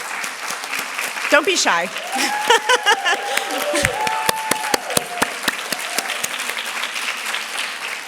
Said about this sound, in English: I would like to applaud you for being part of this program.